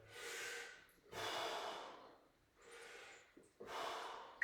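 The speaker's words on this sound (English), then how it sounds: "Breathing in all the way down, out on the way up" Heavy, forceful breaths from someone doing weighted split squats, with four long rushing exhales and inhales in a steady rhythm, close to the mic and without talk.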